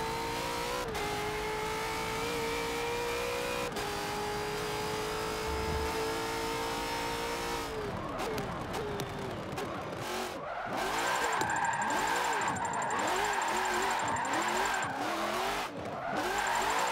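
Race car engine in Forza Motorsport 7, a Ford NASCAR or V8 Supercar, revving hard with rising and falling pitch, then tires squealing and skidding through a spin, loud and close throughout.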